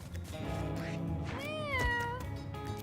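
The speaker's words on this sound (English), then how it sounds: "Meow." A cartoon cat meows in the video game Mewgenics, one drawn-out, wavering meow standing clearly over steady background game music and effects.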